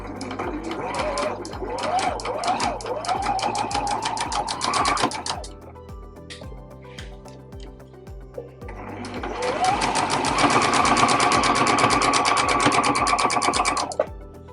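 A sewing machine stitches around the folded casing of a fabric bread bag, running in two long bursts with a short backstitch pause between, close and steady throughout.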